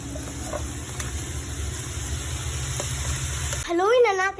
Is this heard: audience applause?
no